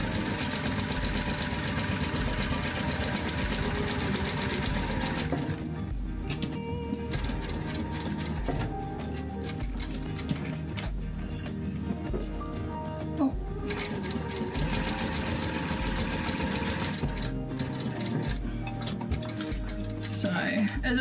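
A sewing machine stitches a Kraken coffin glasses case in short bursts, a fast mechanical ticking hum that starts and stops repeatedly over twenty seconds, fairly quiet, with the machine pausing between runs.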